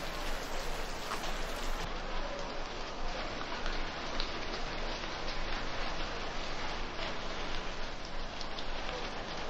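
Steady rain falls on surfaces, a dense continuous hiss with scattered droplet patter, even and fairly near throughout without any voices.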